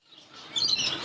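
Male ringneck parrots chirping in a bird shop, a short burst of high, bright tweets building from faint to fairly loud over about a second, with no talk.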